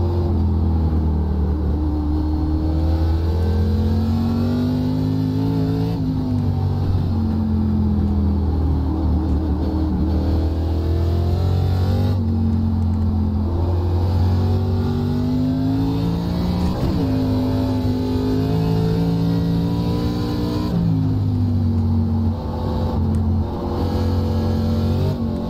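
An ARCA Menards race car on Lime Rock Park in iRacing roars steadily up close, its engine pitch rising and falling through upshifts, downshifts and revving throughout.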